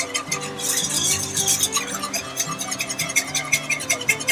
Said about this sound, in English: now I'm just gonna whisk all those lumps out and still keeping the heat low